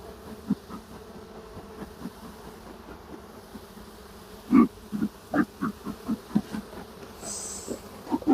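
Honey bees buzzing around a hive during smoking, a low steady drone close by, broken by repeated louder buzzing passes as individual bees fly near.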